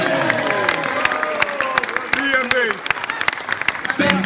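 Wedding guests cheer and applaud at a groom's speech, dense steady clapping and whoops filling the room throughout, with voices calling out over it and a brief lull near the end.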